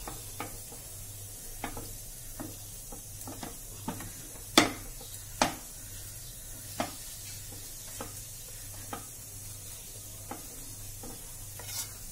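Flour dough is stirred in a pan over low heat, with soft scraping under a faint sizzle and sharp spoon knocks against the pan at irregular intervals.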